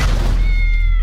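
A cat gives one short, drawn-out meow in a Russian-dubbed trailer for the card game Exploding Kittens, heard close and loud over a heavy low rumble.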